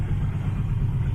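A sailboat's engine runs steadily while motoring along the coast, giving a continuous low rumbling drone at close range.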